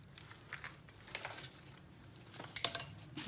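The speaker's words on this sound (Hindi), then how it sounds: "अब हमने इसको अच्छे तरीके से मिक्स कर लेना है।" Bowl and utensil clinks and light scraping while biscuit dough ingredients, including baking powder and baking soda, are stirred together; quiet, irregular taps with a sharper clatter near the end.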